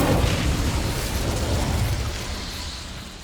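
Incendio fire spell from Hogwarts Legacy on PS5: a loud, dense whooshing burst of flame that erupts right away and then roars on for about three seconds, slowly thinning out without any clear break.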